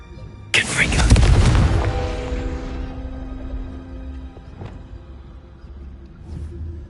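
A Confringo spell explosion in the Hogwarts Legacy video game bursts loud and close with a sharp boom, then rolls into a long rumbling decay with ringing tones and a few smaller crackles trailing after.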